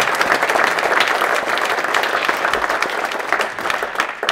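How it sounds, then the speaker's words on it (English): Audience applause at the close of a sheep-farming network webinar, a continuous, fairly loud burst of mixed clapping that holds steady throughout. "And I think that we can applaud them."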